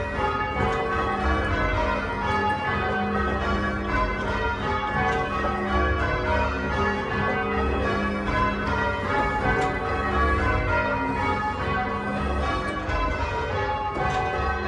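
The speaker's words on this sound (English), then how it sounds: "Listen to your bells now." Several church bells at St Illtud's Church ring continuously in a dense, overlapping peal, steady and fairly loud throughout with no voices.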